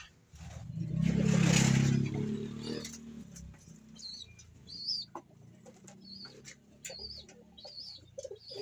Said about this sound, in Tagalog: Yan ang ating mga ibon.